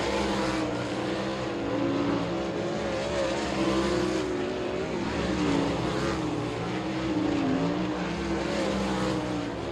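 Race cars qualify on the I-30 Speedway short track during the Short Track Nationals, their engines a loud, steady, continuous roar that swells and fades slightly as they circle, with no talk over it.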